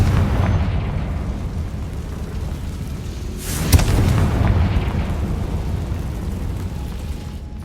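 A Confringo explosion spell in Hogwarts Legacy bursts with a single sharp blast near the middle, set against a steady low rumbling background.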